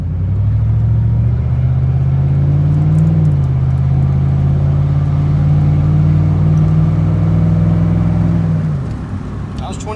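A Ford F-150 pickup's Triton engine, run low on oil, is held at about 2,500 RPM, a loud steady close-up drone that holds for several seconds before dropping back toward idle.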